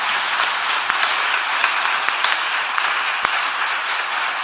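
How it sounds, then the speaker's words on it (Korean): Steady audience applause fills a church-hall conference gathering, a dense, continuous wash of many hands clapping at even loudness, with a few sharper individual claps standing out and no talking. "우리 스코틀랜드에 우리 감사의 박수 한번 보내주시면 좋겠습니다."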